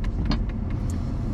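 A pickup truck idles at a scrap dump site, a steady low engine rumble with faint clicks and brief higher ticks over it, running alone and fairly close.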